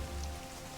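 Rain in the WWII strategy game Strategic Mind: The Pacific, a steady broadband hiss of rainfall with a low rumble underneath, even and continuous for a brief moment with no voice.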